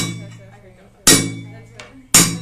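Two loud, ringing hammer blows land on a soft-metal digging fork being straightened at a tool repair workshop, about a second apart, with a faint tap between them over quiet background noise.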